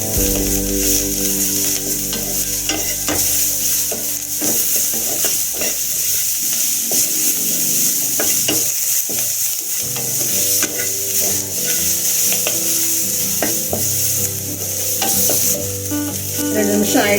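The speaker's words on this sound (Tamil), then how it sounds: "புளி, இதெல்லாம் போட்டு ஒரு 2 நிமிஷம் வதக்கிக்கோங்க." Tamarind, turmeric and pirandai sautéing in a pan for soup: a steady, loud sizzle runs throughout with repeated scraping and stirring of a spoon against the pan, no voices.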